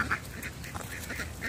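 Ducks quacking near at hand as they are fed bread at a pond, a few short quacks and calls rising over a steady busy background of other birds and murmuring people.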